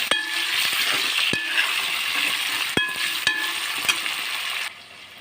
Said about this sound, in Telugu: ఇప్పుడు ఆనియన్, పచ్చిమిర్చి, అలాగే టమాటా ముక్కలు కూడా ఉన్నాయండి, వేసుకుందాం